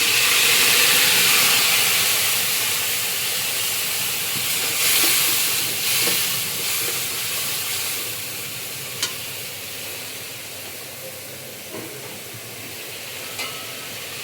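Spice paste of salt, turmeric and cumin powder mixed in water hits a hot pan with bitter gourd and potato, bursting into a loud close sizzle and hiss that slowly fades, with a few sharp utensil clicks later on.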